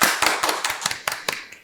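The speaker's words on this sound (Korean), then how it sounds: "큰 박수 부탁드릴게요." Scattered audience clapping at an online mentoring event, sparse individual claps tapping irregularly for under two seconds, fairly faint and thin rather than a full ovation.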